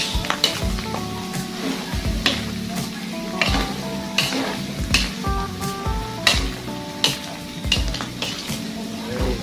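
Ingredients for bopis, a Filipino dish, sautéing in a pan, a loud close sizzle broken by repeated metallic clinks and scrapes of a utensil against the pan at a steady stirring rhythm.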